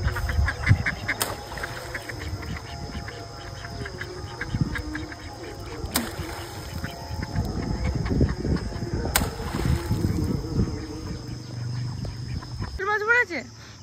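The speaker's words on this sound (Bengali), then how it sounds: "দেখো আমাদের সে বাড়ির হাঁসগুলো চলে এসছে" Village ducks at a pond give scattered quacks and splashes amid outdoor ambience, while people talk over much of it and a sharp tonal call is heard near the end.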